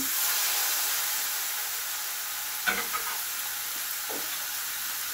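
Marinated pork added to a hot pan for pinakbet, giving a steady loud sizzle and hiss with a few brief stirring clatters partway through.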